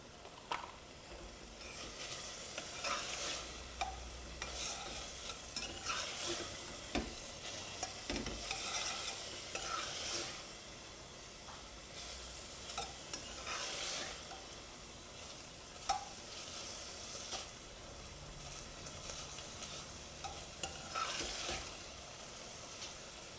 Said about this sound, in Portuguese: a gente vai dar uma douradinha no alho nessa cebola, nesse alho e nessa carne